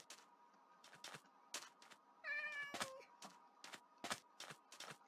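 A single drawn-out meow from a cat in Minecraft rises clearly near the middle, set among a steady run of sharp clicking taps before and after it.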